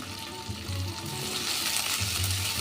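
Chopped onion sizzling and frying steadily in a hot pan with oil, a continuous close crackle with faint stirring, no voices.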